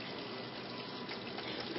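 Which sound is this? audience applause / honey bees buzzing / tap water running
tap water running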